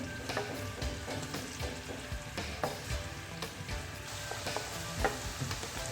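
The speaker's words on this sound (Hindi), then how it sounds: "अदरक लहसुन के पेस्ट को थोड़ा सा मैं 2-3 सेकंड के लिए इसके साथ भूनूंगी।" Ginger garlic paste fries in a pan, with a dense continuous sizzle and crackle and occasional stirring scrapes, close and steady throughout with no talk.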